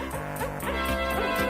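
A cartoon dog barking in a Slovenian children's animated series, a quick run of rhythmic yips over busy background music, loud and close.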